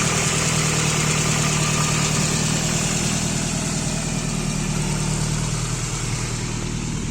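A car engine idles steadily just after its first start, its heat-wrapped exhaust smoking. The idle is loud, continuous and even, with a low rumble and no talking.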